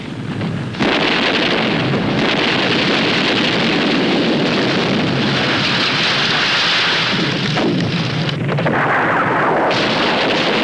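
An artillery battery fires a fire mission, heard as a loud, continuous heavy roar and rumble of barrage fire that fills nearly the whole stretch, with no voices.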